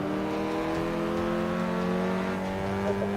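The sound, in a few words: race cars driving on a circuit in video game Forza 5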